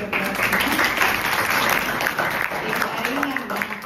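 A school audience at a Greek secondary school gives a round of applause to a presenting student, a steady mid-level clapping wash with some voices mixed in.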